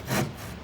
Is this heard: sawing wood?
yes